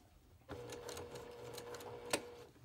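A sewing machine runs a back stitch across a quilt block, starting abruptly and chattering in a steady rapid rhythm up close, with one sharper click near the end.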